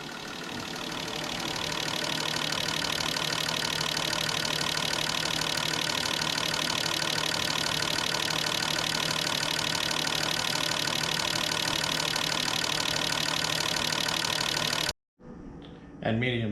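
Fuel injector test bench in an idling test, a continuous, fairly loud rattling mechanical drone with fine rapid ticking that runs steadily before stopping suddenly near the end.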